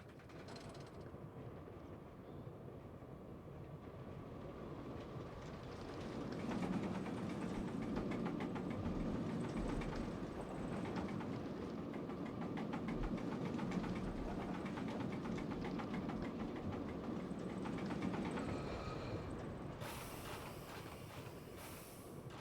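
A roller coaster ride in Planet Coaster gives a rolling, rumbling rattle of cars on track that builds in the middle and holds steady, fairly quiet, with no talking.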